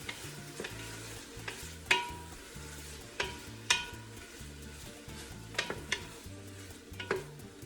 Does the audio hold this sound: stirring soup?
yes